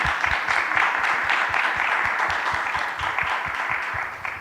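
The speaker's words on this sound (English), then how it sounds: "Big round of applause for Denise." Loud, close applause from a gathered audience at a live-streamed devotional class, dense clapping that holds steady for the whole stretch.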